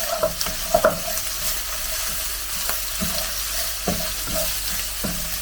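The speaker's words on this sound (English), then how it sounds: "Now I'm going to put in the ginger and the garlic, and just we'll leave that again for a few minutes just to cook off" Ginger and garlic frying in a pan for chicken curry with tamarind and coconut milk, a constant close sizzle broken by utensil scrapes and stirring knocks, no voices.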